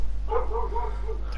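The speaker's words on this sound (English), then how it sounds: "excuse your stupid dog" A dog gives a quick run of short yapping barks, close and fairly loud, with a whimpering edge and a soft voice murmuring near the end.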